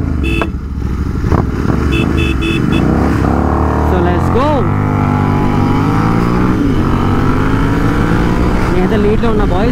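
Two Royal Enfield GT650 motorcycles, one tuned and one stock, accelerating in a drag race, loud close engine roars rising in pitch through gear changes, with a rider's voice talking over them.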